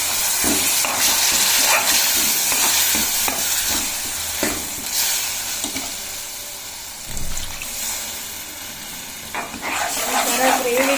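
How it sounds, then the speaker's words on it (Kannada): Pav bhaji gravy with freshly added water is stirred in a hot pan, giving continuous sizzling, hissing and scraping that stays loud and close for the whole stretch. "ಸೊ ಈಗ ಇದಕ್ಕೆ ಸ್ವಲ್ಪ ನೀರನ್ನ ಆ್ಯಡ್ ಮಾಡ್ಕೋಬೇಕು."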